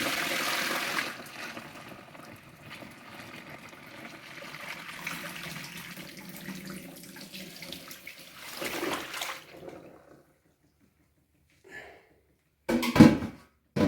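Large pot of tea-dye water poured into a sink along with a fabric duster, a long gushing splash and drain rush for several seconds, then a quiet stretch and a few sharp clatters and thumps.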